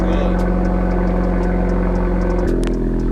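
A Honda Civic engine with a full Borla exhaust idles with a deep, steady rumble close by after start-up, its tone shifting briefly partway through as revs settle.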